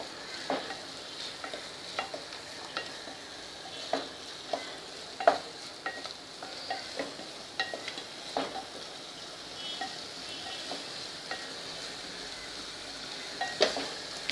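Dry spices sauté in oil in a pan for a field bean curry, giving a soft steady sizzle broken by frequent light stirring scrapes and clinks, with no talking.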